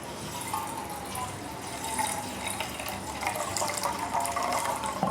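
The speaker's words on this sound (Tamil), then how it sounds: "அந்த தக்காளி முங்குற அளவுக்கு தண்ணி பிடி" Tap water runs steadily into a container of tomatoes, a continuous close splashing rush that grows slightly fuller as the vessel fills.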